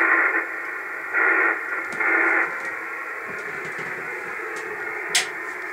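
Shortwave receiver hiss on the 160-metre amateur band through an anti-noise antenna: a steady band of static with brief louder swells near the start, then a flatter, quieter hiss with faint ticks, and no speech.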